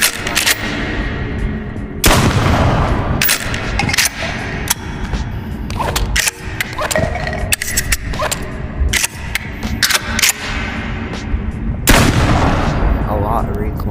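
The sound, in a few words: gunfire from a VR gun video game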